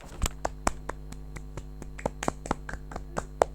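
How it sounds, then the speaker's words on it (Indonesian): A few people clap sparsely for Renald at a family gathering, scattered separate hand claps and light taps spread across a few seconds in a quiet room. "Beri tepuk tangan buat Renald."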